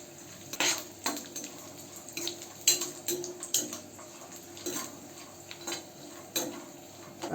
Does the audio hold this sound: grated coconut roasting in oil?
yes